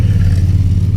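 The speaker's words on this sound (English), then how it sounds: "Motorcycle also." A motorcycle engine rumbles close by on a street, a loud, steady low drone with a slightly pulsing rhythm over the full second, no voices.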